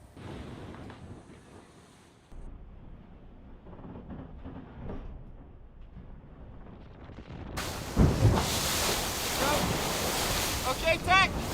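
Ocean waves at sea in the Gulf Stream during a sailing race, heard from aboard a racing boat as continuous rushing surf and wind buffeting, growing louder and harsher with a splash or slam partway through.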